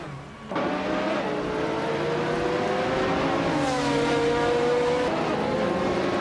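Several GTS race cars howl past in close formation, their engines rising and shifting pitch together in a loud, continuous roar with overlapping revs as they run nose to tail.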